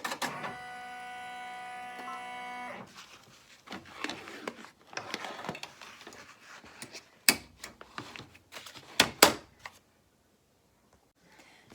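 An embroidery machine stitches a tack-down pass holding vinyl or cork onto coaster blanks, a busy, rapid mechanical chatter of needle strokes and clicks, close up, with a few louder knocks before it stops.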